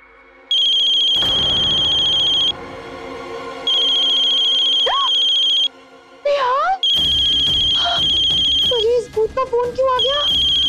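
An electronic phone ringtone trills in repeated bursts, loud and close, while a person talks over the gaps between rings.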